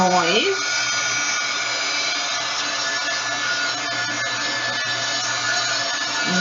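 A hair dryer drying paint whirs steadily at close range, a constant high-pitched blowing drone after a brief rising start-up.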